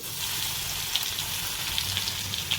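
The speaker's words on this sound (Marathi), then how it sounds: "आपले जिरे मोहरी हे तेलात छान तळल्या जात आहेत" Cumin and mustard seeds frying in hot oil, a steady hissing sizzle with small scattered pops and crackles running throughout, close and continuous.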